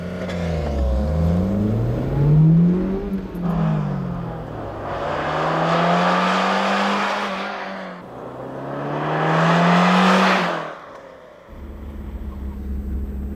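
An all-wheel-drive Toyota Celica accelerating hard in a speed test, engine revs rising and dropping through several gear changes, loud and sustained, with a brief pause before the final pull.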